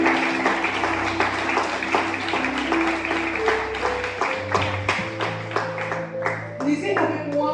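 A church congregation claps and cheers in praise during a morning service, a steady dense wash of applause lasting throughout, with music and voices mixed in.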